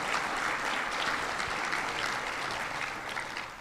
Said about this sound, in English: Let's give them a round of applause for making today happen.